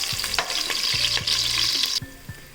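Onion sizzles in oil in a pan until reddish for sprouted gram sambar, with a continuous hiss broken by a few spatula scrapes and stirs, the sizzle dropping suddenly quieter near the end.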